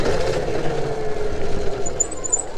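Velimotor VMX3000 electric enduro bike climbing an uphill trail, its rear wheel spinning up with a steady motor whine under continuous riding noise, close and moderately loud.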